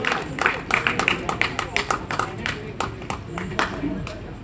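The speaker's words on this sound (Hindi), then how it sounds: "कितनी तालियां चाहिए अब तो मेरे को।" An open mic audience claps together in a dense, continuous burst of applause at a Hindi poetry performance, steady and fairly close, with voices mixed in.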